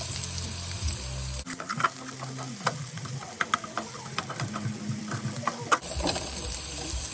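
Chopped mushrooms sizzle and crackle in a hot pan, a steady frying hiss punctuated by scattered stirring clicks and pops, with a heavier tonal hum at the start and end.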